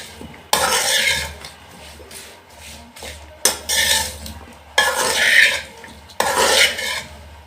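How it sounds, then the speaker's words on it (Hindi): Vegetables being mixed with milk and ghee in a kadhai for a village-style vegetable biryani: four loud bursts of stirring and scraping against the metal pan, separated by quieter pauses. "अब इसको अच्छी तरह हमने मिक्स कर लेना है।"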